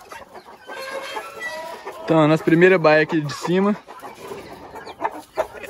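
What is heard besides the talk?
free-range rooster and hens clucking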